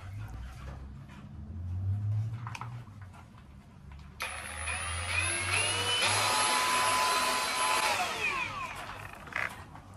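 Hand-held sander/polisher grinding a rock pendant through progressively finer grits, a steady high whirring buzz that starts abruptly partway through and runs continuously, close and loud, after a quieter low rumbling stretch.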